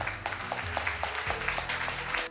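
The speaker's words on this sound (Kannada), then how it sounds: "ಚಪ್ಪಾಳೆ ಬರಲಿ" A congregation applauds during a short Kannada church sermon, with quick rhythmic clapping pulses filling the room at a moderate, steady level.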